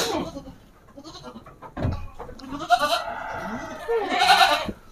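Goats bleating at a crowded livestock market, several loud, wavering calls from close by overlapping one another, with people talking in the background.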